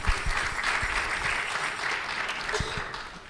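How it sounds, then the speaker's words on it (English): An audience claps at a concert and community event, a dense burst of close-by applause that slowly fades, with a few sharp individual claps standing out. "give a big round of applause"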